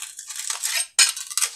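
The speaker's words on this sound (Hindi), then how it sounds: "पहले बर्तन धोते हैं।" Metal pots, dishes and utensils clatter and scrape while being washed, a busy run of close clinks and knocks with a sharp louder clank partway through, no talking.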